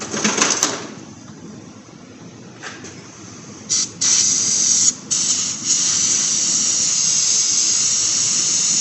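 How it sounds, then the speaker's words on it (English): A steady, loud hiss of cleaner spraying onto 2002 Chevy S-10 ZR2 differential parts runs for several seconds, broken by a few short pauses and restarts, with brief clicks at the start. "Let's go ahead and spray it. Spray all that."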